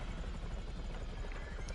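A helicopter in GTA Online on PS5, its rotor giving a steady low pulsing thump with engine whine, fairly faint throughout, no voices.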